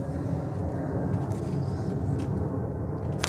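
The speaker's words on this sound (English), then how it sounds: "Can everyone hear that plane well enough?" A steady low rumble of an airplane passing overhead, continuous and fairly loud with no voices.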